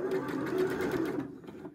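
A basic sewing machine stitches fabric for a machine smocking effect, a fast continuous mechanical whirr with rapid needle ticks that runs steadily and then slows to a stop.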